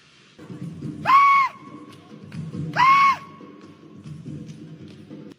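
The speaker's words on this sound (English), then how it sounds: "I don't know what we're yelling about!" People yell in two loud, sustained bursts over a noisy, crowd-like background, with an excited, shouting quality and a pause between the outbursts.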